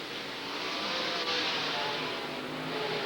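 Dirt late model race cars roar around a track together, a steady, fairly loud blended engine drone from a distance with a slight swell midway.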